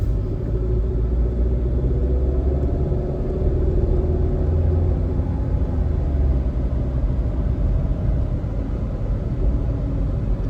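A 2006 Mercedes C230 Kompressor with about 170,000 miles and Michelin Pilot Sport tires drives along, its cabin filled with a steady low engine and road rumble.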